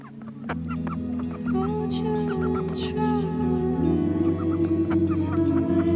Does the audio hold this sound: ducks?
yes